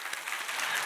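A church congregation in a Korean Baptist service applauds in a brief, continuous patter of many hands, fairly faint and even.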